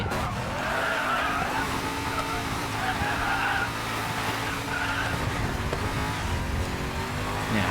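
A car in the Racing Master game roars out of a corner under hard acceleration, with a steady, dense engine drone and tire hiss holding for several seconds at an even, close level.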